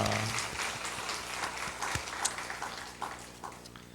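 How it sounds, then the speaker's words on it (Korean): A church congregation applauds after a Sunday service ordination, the scattered clapping uneven and fairly faint, with irregular louder claps standing out. "우리 박수하겠습니다"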